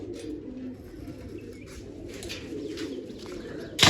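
Pigeons coo steadily in low, rolling calls that run through the whole stretch, fairly close, with a burst of louder noise right at the end.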